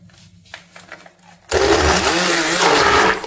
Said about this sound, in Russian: Теперь мы сюда погружной блендер и